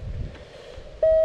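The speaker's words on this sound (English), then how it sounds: "somebody just beeped on my frequency" A single steady electronic beep tone cuts in abruptly over faint background noise on an amateur radio frequency, heard through a small powered speaker during outdoor CW operation in a state forest.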